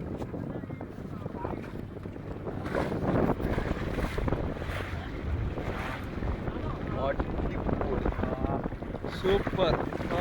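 Strong wind buffets a boat on the Kumarakom backwaters, a steady broadband roar with gusty microphone rumble and water wash throughout, while people talk faintly beneath it.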